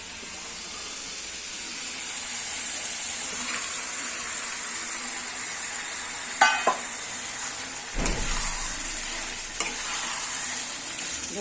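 Chicken coated in salt, turmeric, cumin, coriander and chili powder fries in a pan for chili chicken, a constant close hissing sizzle with a few sharp clinks and scrapes of stirring.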